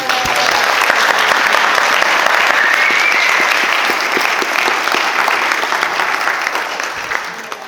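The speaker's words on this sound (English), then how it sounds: "can we give a round of applause for Kelsey?" An audience at a real estate investor panel event bursts into sustained applause, a dense, even wash of many hands clapping that holds steady and tapers slightly near the end.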